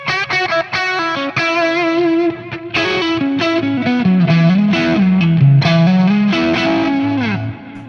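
A Stratocaster electric guitar played through a stacked K drive overdrive on a HeadRush unit, with distorted notes and bends in a lively riff alone, ending with a sustained chord.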